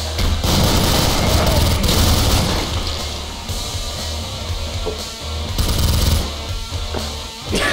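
Gunfire in the video game Killing Floor, loud rapid bursts and booming shots in dense clusters, with players talking over the chaotic shooting.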